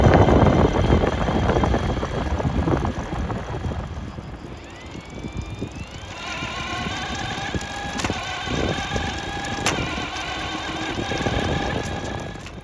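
DIY mid-drive motor e-bike running on throttle at up to about 15 km/h outdoors in the Dolomites, a steady motor whine rising in pitch over continuous wind and road rumble.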